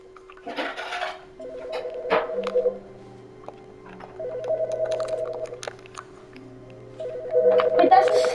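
A telephone rings in The Stanley Parable video game, repeated tonal ring bursts recurring in rhythmic intervals with a steady electronic hum beneath, a voice briefly reacting between rings.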